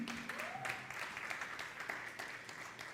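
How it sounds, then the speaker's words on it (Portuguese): Applause from a church congregation, soft and somewhat distant, a continuous patter of clapping with a faint voice briefly heard through it. "Uma salva de palmas para o Guilherme."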